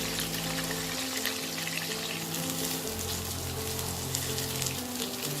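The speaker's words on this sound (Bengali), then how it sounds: "মাছটা এক পিঠ খুব কড়া করে ভাজা হলে আমি আরেক পিঠ উল্টে দেবো" Katla fish fries in hot oil with a loud, dense, continuous sizzle and crackle close by, steady throughout, with a faint low hum beneath and no voices.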